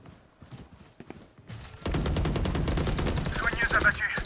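Rapid automatic gunfire from the Valorant video game rattles in a fast, steady burst of dozens of shots, loud and close, preceded by a few scattered single shots and game clatter.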